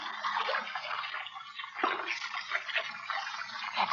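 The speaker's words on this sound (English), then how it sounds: "Running water" Running water in an old-time radio drama, a steady broadband trickling and splashing flow that runs continuously throughout at moderate level, alone with no voices.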